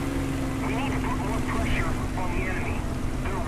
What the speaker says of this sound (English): so I'm going to go ahead and pull up and let that plane go down.